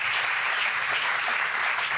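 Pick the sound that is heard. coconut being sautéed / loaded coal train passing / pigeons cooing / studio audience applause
studio audience applause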